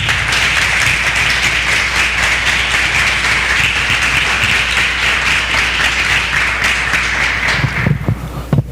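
A church congregation applauds steadily for several seconds, a broad wash of clapping that thins into a few scattered, louder claps near the end.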